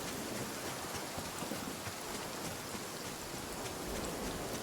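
Hail and rain pour down steadily in the survival game Nightingale, a dense, even hiss of drops striking surfaces that stays loud and constant throughout with no voices over it.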